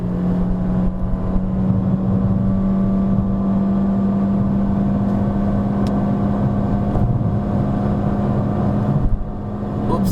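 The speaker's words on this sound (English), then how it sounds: "We're gonna hold third gear through this bend and catapult out." Toyota Corolla 2020 on a Genting hill climb, engine droning loud and steady from inside the cabin as it pulls hard out of a bend, a sustained whirring note with a slight dip near the end.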